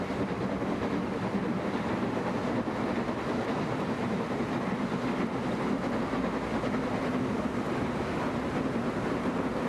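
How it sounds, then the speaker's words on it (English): Steam locomotive J94 assisting a southbound train, giving a steady, loud rolling rumble with a faint clickety-clack that holds at an even level throughout, with no voices. "Gothenburg was assisted by the J94 on a southbound train."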